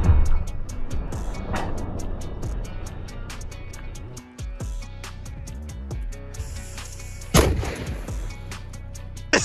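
A loud black powder cannon blast firing grapeshot booms out near the start, followed by rumbling and echoes, with a second heavy boom later among outdoor background noise.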